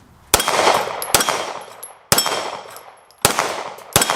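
A Staccato P handgun fires single shots at steel plates, each sharp crack followed by a ringing metallic clang and a decaying echo, spaced unevenly about a second apart.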